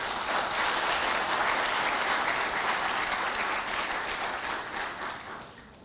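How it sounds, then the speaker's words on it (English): At a bank's young bankers program convocation, the hall fills with sustained applause for the graduates, a thick, even wash of clapping that holds steady before tapering off near the close. "A huge round of applause to all of you."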